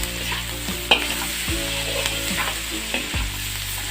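A spoon stirring Chicken Manchurian sauce in a pan, with a steady sizzle under repeated rhythmic scraping strokes and a sharp clink near the start, close up and without speech.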